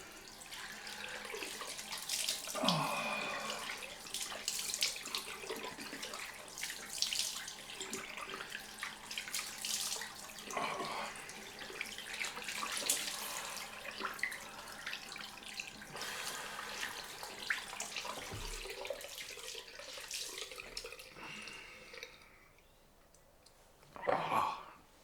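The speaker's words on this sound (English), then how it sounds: "cold rinse time." Cold tap water runs steadily into a sink for a rinse after a straight-razor shave, a close continuous splashing stream with small drips and hand movements, ending abruptly in near silence.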